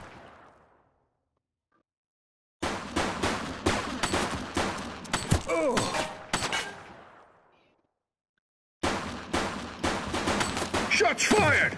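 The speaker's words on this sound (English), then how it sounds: "Shots fired!" Dense, rapid gunfire from a police shootout in The Precinct video game rattles out in two long bursts of crackling shots, separated by near silence, with faint voices under the volleys.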